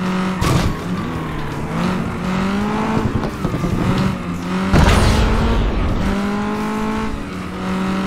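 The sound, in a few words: racing car engine in video game FlatOut 2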